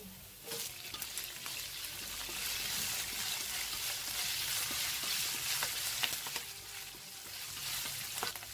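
Bok choy stems hit hot oil with garlic and shallots and are stir-fried, giving a loud, continuous sizzle broken by scraping stirs and occasional clatters close by.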